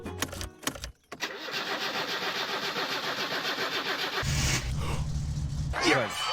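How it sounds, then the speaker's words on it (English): A car engine in the video game My Summer Car, just refuelled from a jerry can, cranks with a brief clatter, then catches and runs steadily, settling into a deeper, louder rumble near the end. "I filled up the fuel tank with my jerry can, and started her up"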